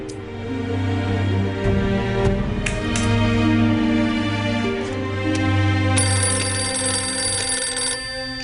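A telephone rings steadily with a bright, sustained electronic trill, heard over a humming music-like background; no one speaks.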